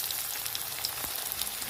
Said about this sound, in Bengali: তেলটা গরম হয়ে গেছে, এর মধ্যে কাঁচা লঙ্কা কুচি, পেঁয়াজ কুচি দিয়ে দেবো